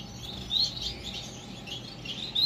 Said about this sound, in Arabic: شوفوا الطيور فاش كتشوفوا الطيور تيشطحوا ولاعبين وناشطين